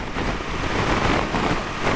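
Strong, steady wind on a hot 35-degree day near Winton roars across the microphone, a dense broadband rush with gusty buffeting and no voices.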